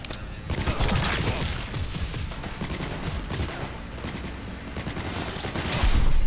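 Gunfire in Cyberpunk 2077: sustained rapid volleys of shots, loud and dense throughout, alone without talk.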